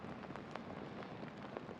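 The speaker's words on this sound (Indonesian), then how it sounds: "Adam Haikal Jahar dan juga Farish Ikmal dengan keadaan hujan yang sangat lebat." Heavy rain pours steadily over a motorcycle race track, a dense, constant hiss of drops with a few faint louder splashes, fairly quiet and alone with no talk.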